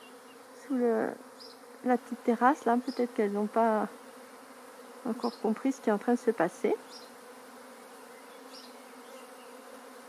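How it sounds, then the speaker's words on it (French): A swarm of honey bees clustered under a small terrace gives off a steady, close buzzing drone throughout, with someone talking in two stretches over it. "il y a encore des abeilles qui sont en grappe sous la petite terrasse là"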